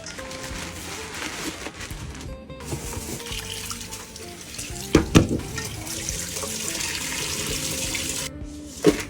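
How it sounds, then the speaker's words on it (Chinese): Tap water runs into a kitchen sink while shrimp are rinsed, a continuous splashing flow broken by a few brief clatters and knocks as the shrimp are handled. "把这个虾给洗一下。"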